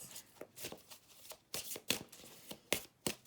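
A deck of tarot cards is shuffled close by in several quick soft riffling bursts with short pauses between them.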